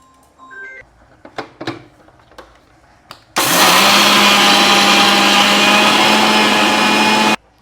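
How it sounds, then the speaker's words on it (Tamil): A mixie mixer grinder grinds soaked raw rice into flour for aadi koozh, a loud steady whirring roar that starts abruptly after a few light clinks and runs evenly for about four seconds before cutting off. "இப்போ நாங்கள் நல்ல வடிவாக அடித்து எடுக்கிறதுக்கு மிக்சி கப்பில் போடுவோம்"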